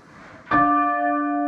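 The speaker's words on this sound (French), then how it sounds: "Ah ouais, on peut sonner la cloche ici" A single church bell strike rings out sharply in a bell tower on Røst, Norway, then its bright, steady tone hangs and sustains with a long ringing decay, close and loud.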